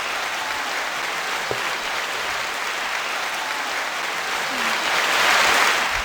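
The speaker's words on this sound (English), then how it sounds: "Extra long round of applause." An audience keeps up a long, continuous round of applause at a Christmas-themed show, dense and even throughout, swelling slightly near the end with no voices on top.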